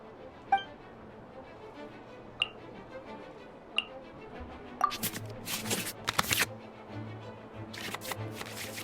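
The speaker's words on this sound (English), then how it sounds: "we can select any number of cards in our hand to shuffle back into the draw pile, and then draw the same number of new cards" Playing cards being shuffled back into a draw pile in the Genshin Impact card game, a few sharp ticks followed by quick bursts of riffling card sounds, faint and close.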